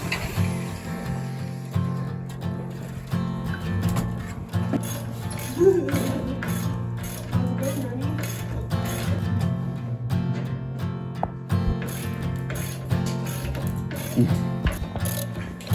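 A hand ratchet cranks steadily to tighten braces on a small mountain cabin under construction, its rapid pawl clicks continuous and close throughout, with a low background hum and brief bits of speech.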